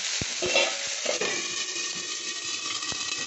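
Garlic paste and ginger hitting hot oil in a pan while cooking chicken korma, a bright spitting sizzle that begins with a few sharp knocks and settles into an even hiss.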